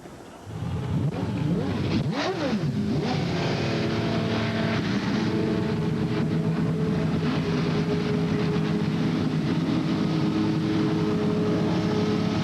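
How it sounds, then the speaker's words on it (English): IMSA race car engines firing up on the pit straight at Road Atlanta, a quiet start that jumps into loud revving and rising whines, then a sustained roar from many cars idling together. "Start your engines."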